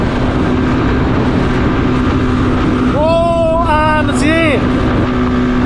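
A motorcycle engine drones loudly and steadily while riding, with a rising rev near the end as the throttle opens; a rider's excited voice briefly cuts in over the engine noise.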